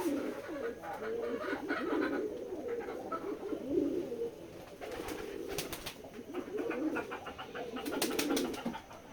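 Many pigeons kept for selling chicks coo steadily at a breeder's loft in Betikhola village, a dense, continuous murmur of overlapping coos close by with no talk.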